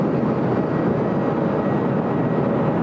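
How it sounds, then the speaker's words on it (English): A Qantas airliner taxiing at Sydney Airport gives off a steady, loud broadband jet roar that holds without a break, close by and with no talking over it. "There's Qantas 3 just taxiing southbound on Tango."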